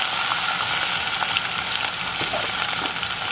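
Two drained cans of pinto beans hit a hot pan with fat, giving a constant bright crackling sizzle with small pops and stirring scrapes, close and even throughout.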